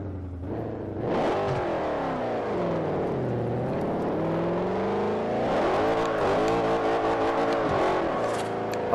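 A Mercedes car engine in the video game Forza Horizon revving and accelerating through gears, rising and falling in pitch with a continuous loud roar, no talking.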